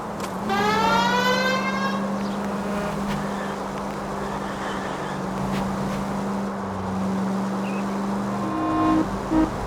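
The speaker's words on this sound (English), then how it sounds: "May as well hit the siren." A police car siren in the crime game L.A. Noire starts with a rising wail, then settles into a steady, droning tone over engine hum and road noise that carries to the end.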